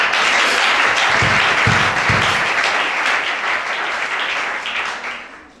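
Congregation at a French-speaking church worship service applauding and cheering, a dense, steady wash of clapping and voices held throughout before tapering off at the end.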